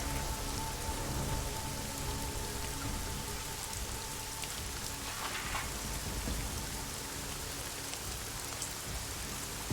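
Steady rain falls in the video game Deus Ex: Mankind Divided, a dense, even hiss of drops on surfaces with a faint low rumble beneath, continuous and moderately quiet throughout.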